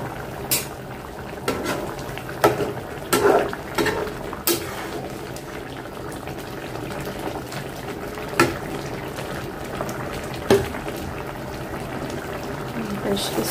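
Sea fish curry with cumin and tomato simmers in a pan, a soft continuous bubbling with occasional clinks and taps of a utensil against the pan.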